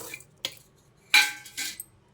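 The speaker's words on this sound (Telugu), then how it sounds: "ఈ ఎల్లిపాయలు పొట్టు తీయకుండానే ఇలా వేసేసుకోండి మిక్సీలో" Unpeeled garlic cloves drop into a steel mixer jar, giving a few sharp, hard clinks and rattles in quick succession, close and fairly quiet, with no talk.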